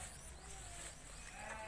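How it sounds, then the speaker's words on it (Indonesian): Four ewes bleating on a small farm, faint bleats heard through a steady wash of background noise in a brief outdoor moment, with no clear speech. "4 ekor domba yang saya miliki"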